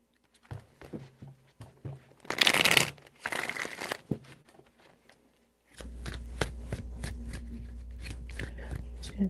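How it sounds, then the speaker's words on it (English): Tarot cards being shuffled during a reading, a few short bursts of riffling and flicking with pauses, close and crisp, then softer card handling over a low hum, with a voice speaking in between. "Three shuffles."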